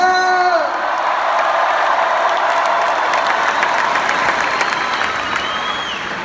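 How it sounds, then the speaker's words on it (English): Concert crowd at The Forum cheering and applauding for the whole stretch, a loud, dense roar of claps and whoops with a few high whistles near the start. "Everybody make some noise for Andrea!"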